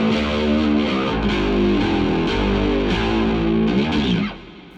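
A bass guitar runs through an Amplitube rig with distortion and an end-of-chain compressor, giving a loud, gritty, sustained tone as several notes change across a steady phrase before the sound cuts off near the end.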